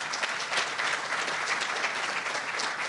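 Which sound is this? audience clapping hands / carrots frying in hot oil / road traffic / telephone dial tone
audience clapping hands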